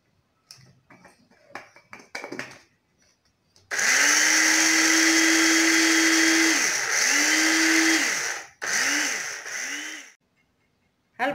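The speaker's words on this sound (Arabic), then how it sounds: "ها البصله دابا طحناها ها هي" An electric grinder pulverises dried onion into powder, running loud and close in a steady whirring burst of about five seconds, then two shorter bursts after a brief pause, with faint handling clatter before it starts.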